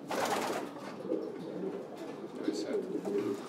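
A Belgian long-distance racing pigeon of the Verrekt Arjen strain coos in soft, repeated throaty murmurs close by, a continuous low rolling call with faint background noise.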